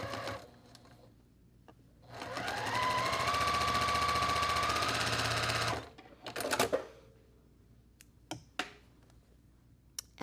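A sewing machine stitches fabric in one continuous, even whirring burst of about four seconds, close and clear, with light handling clicks and thumps before and after.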